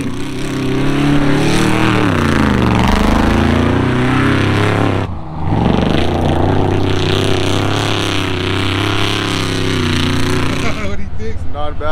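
A supercharged big-block engine in a tow truck runs loud and close, a heavy rumbling idle that swells and dips with revs, briefly cuts, then rumbles on; a voice may be mixed in.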